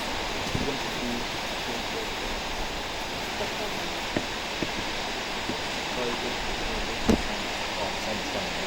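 Steady, broadband rushing of water falling at Sipi Falls fills the scene, with a few faint clicks and taps above the constant roar.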